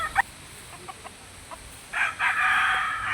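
Chickens on a farm raising fighting cocks, scattered faint clucks followed by a rooster's loud, drawn-out crow near the end.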